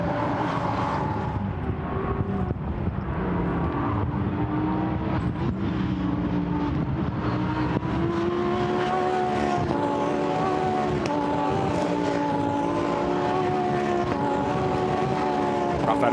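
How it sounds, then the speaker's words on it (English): Lamborghini Super Trofeo race cars at Silverstone circuit roar steadily at close range, a continuous loud engine drone with shifting harmonic pitch as cars pass, no speech over it. "Great noise these cars make. They look good and they sound proper as well."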